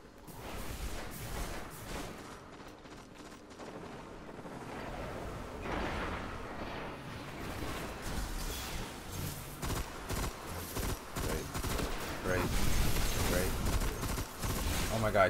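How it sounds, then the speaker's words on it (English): Explosive rounds fire in rapid, overlapping volleys during a Destiny Iron Banner Clash match, a dense, loud barrage of shots and blasts that builds toward the end, with a voice talking over the action. "Damn, this is really shooting that explosion bullets."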